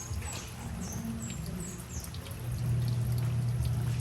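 Water pours steadily, growing heavier and fuller partway through, with faint chirps in the background.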